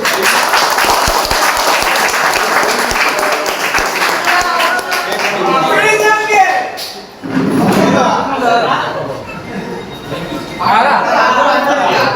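Group clapping at a birthday celebration held in a village secretariat office in Andhra Pradesh, loud sharp claps at first, then dense mixed applause and chatter with voices talking over it.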